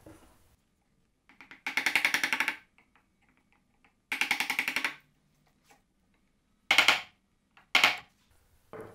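A 3/4 inch chisel cutting into wood to relieve material, heard as separate bursts of close, rasping scraping, two longer strokes followed by two short sharp ones with near silence between.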